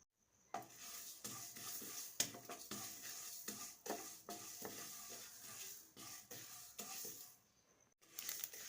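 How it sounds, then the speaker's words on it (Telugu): Fenugreek and mustard seeds dry-roasting in a kadai, with repeated scraping and rattling stirs at an irregular rhythm and short pauses between them. "ఇప్పుడు మనం స్టవ్ మీద బాండీ పెట్టుకొని రెండు స్పూన్ల మెంతులు రెండు స్పూన్ల ఆవాలు వేసి దోరగా వేయించుకోవాలి"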